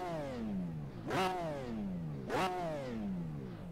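A GT3 race car engine in the Project Cars racing game revs up twice in steady rising sweeps, each climb ending in a sharp snap before dropping back, heard clearly and fairly quietly with no talking.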